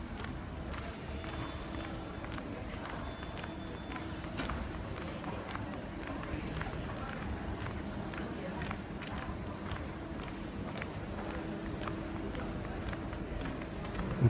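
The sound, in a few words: footsteps walking along train station platform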